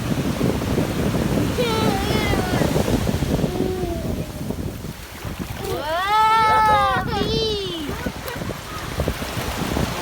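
Ocean waves at a beach wash in as a loud continuous rush mixed with wind buffeting the microphone, while people talk over it.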